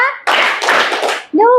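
A classroom of children claps hands together in a counting game, a dense burst of clapping lasting about a second, framed by a teacher's voice just before and after.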